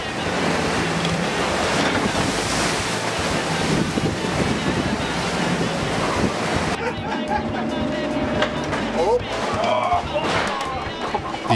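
A 435 hp motorboat runs at full throttle into storm waves, with loud continuous wave crashes and heavy wind buffeting the microphone throughout, the surf roar dominating the whole stretch.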